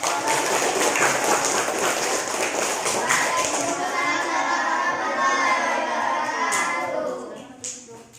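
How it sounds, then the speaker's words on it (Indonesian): A classroom of primary-school children clapping and cheering together, loud and lively, the applause fading out toward the end. "tepuk tangan untuk"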